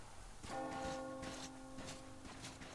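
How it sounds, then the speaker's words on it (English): A church bell in Metro Exodus rings out with sustained harmonic tones, struck a few times and left to hum, over a low background of ambient noise. "Do you hear that bell?"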